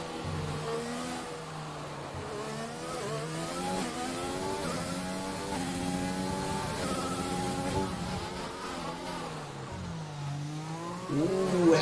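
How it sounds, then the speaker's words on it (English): Race cars in the F1 2020 video game on the Azerbaijan circuit scream past at high revs, engine pitch climbing and dropping through gear changes and corners, loud and continuous without commentary. "Michael Fourie is just really blistering right through these corners without any issues or whatsoever"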